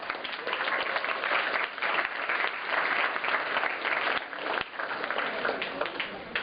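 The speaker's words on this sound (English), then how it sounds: "Another round of applause for all of us." Steady, full applause from a crowd fills the whole stretch, dense clapping with no pauses.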